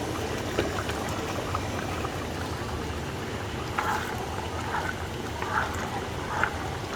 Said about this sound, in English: I want to let it simmer, so let me turn it to low.